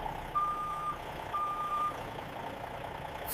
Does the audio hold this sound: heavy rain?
no